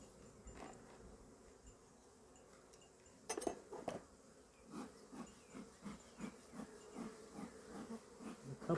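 Honeybees buzz faintly around an open hive during a spring inspection, a soft steady drone under intermittent clinks and knocks from handling the boxes.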